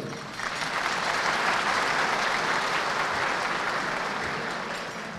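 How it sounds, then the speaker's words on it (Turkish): Sustained applause from an audience at a tradesmen and craftsmen chambers' iftar dinner, a steady dense wash of clapping lasting throughout without speech. "Bir büyük alkışı da sizlerden istirham ediyorum."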